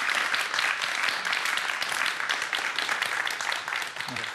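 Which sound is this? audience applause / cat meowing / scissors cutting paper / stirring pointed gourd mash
audience applause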